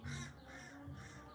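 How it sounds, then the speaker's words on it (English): Three harsh crow caws spaced about half a second apart, fairly faint and distant, heard from outdoors near a porch with no talking over them. "hear the crow?"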